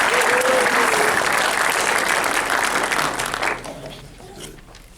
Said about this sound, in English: we're going to give you a big round of applause and a prize